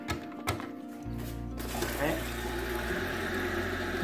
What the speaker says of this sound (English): See the water starting to overflow inside that.